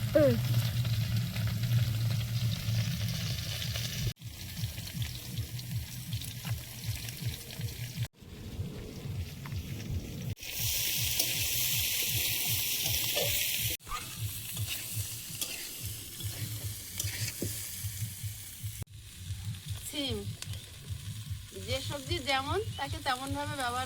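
Mixed garden vegetables with egg frying in a pan, the sizzle steady and close with stirring scrapes recurring through it, broken by a few abrupt cuts; no one talks.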